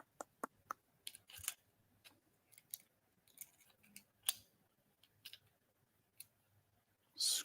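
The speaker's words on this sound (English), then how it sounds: "Scrolling here real quick." Mouse wheel clicking while scrolling, a run of light, sharp ticks at uneven intervals, some in quick bursts, ending in a short louder rustle.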